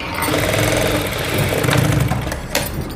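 A sewing machine stitches along both sides of a cloth garment, running as one steady, close, fairly loud mechanical whir for about three seconds with no talking.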